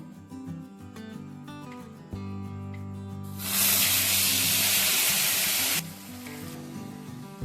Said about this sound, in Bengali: তেলটা গরম হয়ে গিয়েছিল, আমি পেস্টটা দিয়ে দিয়েছি